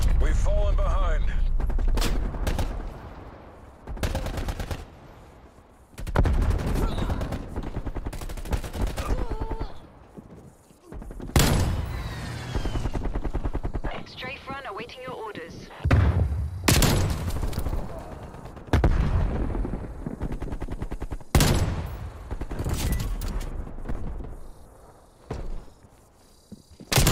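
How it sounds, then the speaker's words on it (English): Artillery strikes and bursts of gunfire in Call of Duty: Black Ops Cold War: heavy thudding impacts and clattering shots arrive in irregular waves, separated by short quieter gaps, loud and close. "Hostile artillery targeting active. Artillery inbound."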